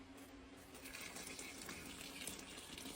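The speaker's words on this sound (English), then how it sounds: "we're going to add nice hot water" Hot sparge water pours over the grain bed of a whiskey mash, a continuous, moderately faint wash of splashing that stays steady throughout, with no voices.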